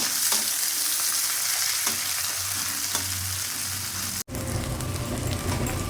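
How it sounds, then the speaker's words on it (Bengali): Chopped onions and black cumin seeds fry in hot oil, giving a steady, close sizzle with faint stirring clicks, a brief dropout, then a louder, denser hiss. "ফোড়ন দিলাম, পেঁয়াজ কুচি দিয়ে দিলাম, হালকা ভেজে নেব"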